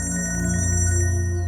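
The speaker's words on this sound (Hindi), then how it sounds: "आपका फोन बज रहा है।" A mobile phone ringing on board a train, with a steady, sustained electronic ringtone that plays close and loud through the whole short stretch, and no voices over it.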